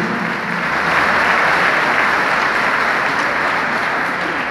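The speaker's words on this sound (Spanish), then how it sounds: "se aplauso fuerte para los deportistas" A crowd at an athletes-of-the-year award ceremony in Chía gives steady, loud sustained applause with no break.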